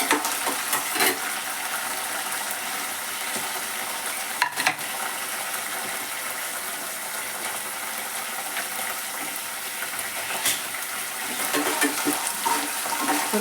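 Field beans fry in a little oil in a pan, giving a steady soft sizzle with occasional stirring clinks and scrapes, no talking.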